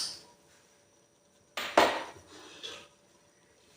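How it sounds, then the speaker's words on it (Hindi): A metal pressure cooker lid is set and fitted onto the pot while aloo palak cooks on the stove. There is one sharp clatter followed by a brief scraping rattle and a softer knock, all close by, with no talking. "अब हमने इसको इसी के ऊपर ही ढक्कन लगा देना है कुकर का"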